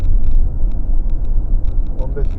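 Heavy truck engine rumbling steadily from inside a cab on a highway as trucks overtake one another, a low continuous drone with faint higher whine, under someone talking.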